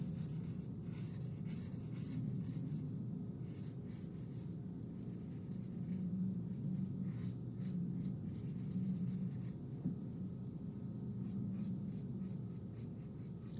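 An eraser rubbing pencil lines off paper on a pencil portrait drawing, a close, continuous scratchy scrubbing with quick repeated strokes and no talk.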